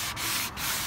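A sanding block rubs back and forth over wood finished with black glaze in a barnwood style, giving steady gritty scraping strokes, close and continuous with two brief pauses.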